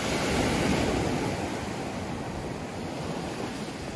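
Strong ocean waves at a beach in Dasol, Pangasinan, a steady broad roar of surf washing in continuously, fairly faint and even, with no voices.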